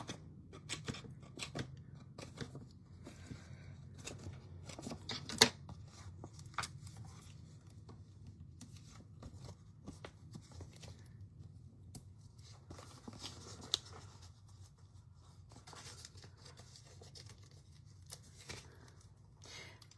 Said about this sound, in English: All right, time to cut the edges.